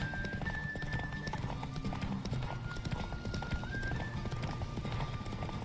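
Steady, rapid clip-clop of galloping horse hooves in The Witcher 3: Wild Hunt runs throughout, with a faint whinny and quiet tonal game sounds above it.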